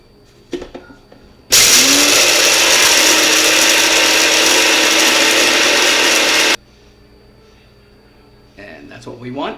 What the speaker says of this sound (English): we're going to grind all these up till they become a fine powder.